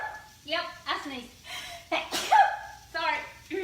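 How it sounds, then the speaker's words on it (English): A sharp, explosive sneeze set off by Cajun or Creole seasoning while grilling pork chops and corn, surrounded by short voiced bursts and breaths close to the mic. "Yep, I sneezed."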